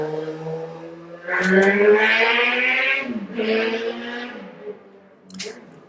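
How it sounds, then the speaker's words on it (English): A motorcycle rides past, its engine note climbing in revs, shifting down and rising again in loud surges before fading, with no speech. "Today is motorcycle riding day, I guess."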